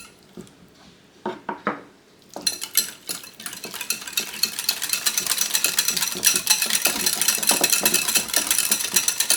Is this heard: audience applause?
no